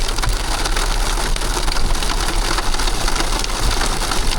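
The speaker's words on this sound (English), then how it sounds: "Well, we got more hail." Hail pelting down on a mountain trail near a reservoir campsite, a dense, steady rattling patter that fills the whole stretch at close range with no pause, no voices over it.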